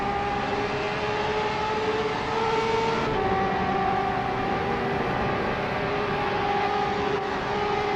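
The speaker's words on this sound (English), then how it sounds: "Someone's definitely having some engine problems," A GT3 race car engine with engine trouble drones steadily at Hockenheimring in a racing video game, with a wavering, strained pitch that dips and shifts, loud and continuous with no voices.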